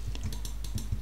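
A handful of quick keystrokes click on a computer keyboard while a name and password are entered, faint and close, with uneven spacing between the taps.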